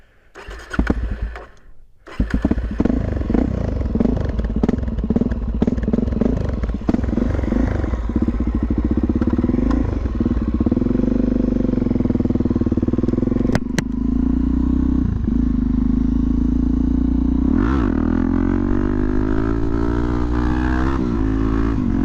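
A Suzuki DRZ400 motorcycle fitted with a Yoshimura exhaust cranks and fires up, then settles into a loud, close idle. Several throttle blips rise and fall over it before it drops back to a rumbling idle.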